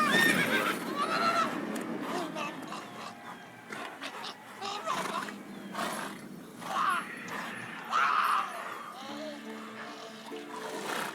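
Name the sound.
Roach the horse neighing, from the video game The Witcher 3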